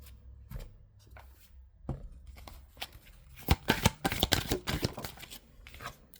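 Oracle cards are shuffled for a card reading, a few soft taps and slides followed by a close run of quick riffling and shuffling flicks.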